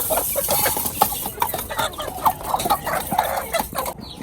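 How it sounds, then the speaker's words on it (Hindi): Black Japanese Shamo chickens cluck and chatter busily at morning feeding, with many close overlapping calls and clucks amid farmyard bustle, and no voices heard. "ये हमारे शामू है, ब्लैक जैपनीज शामू"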